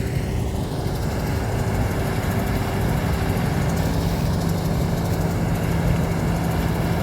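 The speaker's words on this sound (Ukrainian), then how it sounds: "Так, 108-й домінатор працює." Claas Dominator 108 combine harvester running during a dry-season corn harvest, a constant low engine drone and broadband mechanical rumble heard steadily throughout, no voices.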